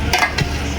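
Shrimp paste (bagoong alamang) frying in a pan and being stirred, with two brief scraping swishes over a soft sizzle, close and fairly loud for under a second.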